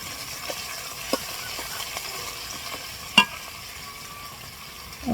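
Quiet sizzling of a ground spice paste being sautéed in a pan, with occasional soft scrapes and stirring knocks, one sharper clink, and no talking.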